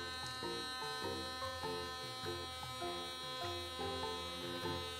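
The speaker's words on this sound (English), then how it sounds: "I'm running the toothbrush up and down the yarn" An electric toothbrush buzzes steadily as it is stroked up and down along yarn strands, a close, constant motor hum with rhythmic dips as it moves.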